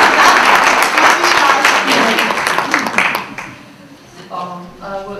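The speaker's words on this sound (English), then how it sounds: "You are allowed to clap" An audience claps for a speaker being introduced, a loud, dense burst of applause that tapers off after about three seconds, followed by a person beginning to talk.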